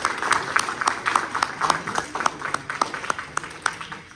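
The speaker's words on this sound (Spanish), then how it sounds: "démosle nuevamente un fuerte aplauso," Light, modest applause from a seminar audience, a small group's individual claps heard as distinct, fairly even slaps over a few seconds.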